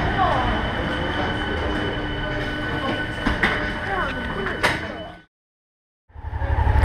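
Riding inside a driverless car of the Toulouse metro, a loud continuous rumble with rail screeches and clunks, then a brief silence before the rolling noise returns.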